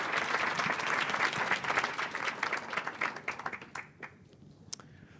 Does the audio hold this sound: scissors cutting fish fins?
no